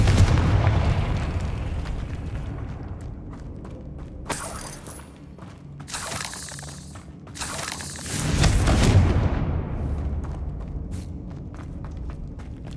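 Confringo fire spell from Hogwarts Legacy going off in a booming blast, then a second heavy explosion with crackling debris, loud and close over a low rumbling game soundscape; no talking.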